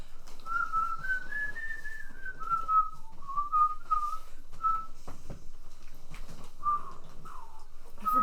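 A person whistles a wavering tune in a quiet room, the melody rising and falling in clear phrases with short breaks and a couple of soft knocks in between.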